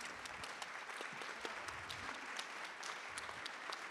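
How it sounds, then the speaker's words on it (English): Audience applauding youth leaders at an education ministerial meeting, a steady wash of many hands clapping at a distance, faint and continuous throughout. "Can you please rise so that we give you a proper round of applause?"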